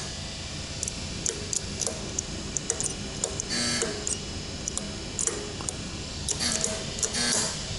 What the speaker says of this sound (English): I'll let you hear the relays one more time.